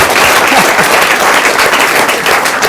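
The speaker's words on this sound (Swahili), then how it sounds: "Wapi makofi ya Jua Kali leo?" Loud, dense audience applause for a Kenyan artist, steady clapping from a large crowd that fills the whole stretch without pause.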